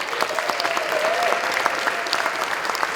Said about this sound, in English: let's give a huge round of applause for our music boosters